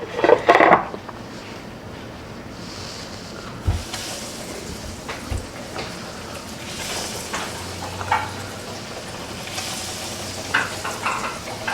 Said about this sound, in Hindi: तो चले अब हम इनमें नगेट्स को फ्राई करना शुरू करते हैं।